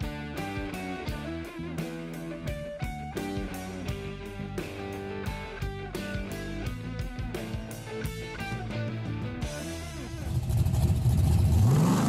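A 2000 Jeep Cherokee Sport off-road at a trail park: loud background music plays for most of the stretch, then a strong engine rev surges up for the final couple of seconds.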